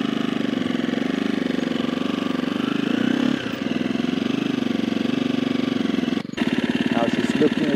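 A motorcycle engine runs steadily at low revs during slow, tight balance turns at a riding session, a continuous close mechanical drone with a brief dip near the end, while a person talks over it.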